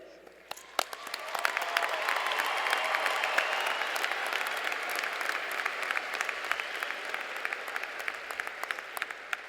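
The audience at the 2015 Stevenson High School graduation applauding, swelling within a second into a broad, sustained wash of clapping and crowd noise that slowly thins toward the end, with sharp individual claps standing out.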